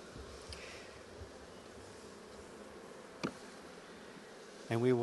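A steady low buzzing drone of many honey bees inside a hive of around 50,000 to 60,000, continuous and close, with a brief click partway through and a voice starting at the end.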